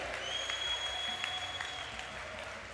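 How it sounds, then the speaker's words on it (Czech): Applause from the crowd at the Noc boje K-1 fight gala, a steady, fairly faint wash of clapping that holds through the whole stretch with no speech over it. "poprosím ještě jednou potlesk pro oba borce"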